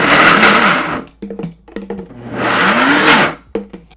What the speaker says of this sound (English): So just start up your blender.